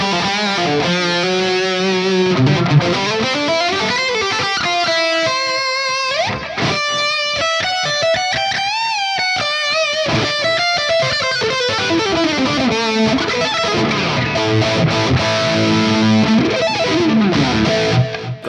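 Distorted headless multiscale electric guitar through Boogie amps, playing bright melodic runs and sweeping arpeggios, drenched in reverb and echoing delay, loud and continuous throughout.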